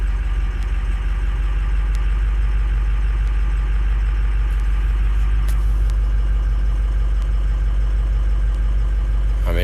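A car engine idles steadily and loudly after a cold start, a constant low rumble with faint ticking on top, one cylinder reportedly dropping out, and no talking.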